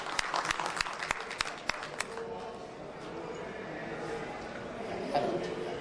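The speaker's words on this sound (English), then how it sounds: "just please give a loud applause and welcome Mr." Audience applause at a clean energy and environment panel session, opening with sharp, close individual claps and settling into a softer sustained patter from the wider crowd, with faint murmuring beneath.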